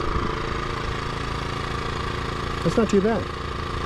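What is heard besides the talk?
Westinghouse iGen2550 dual fuel generator running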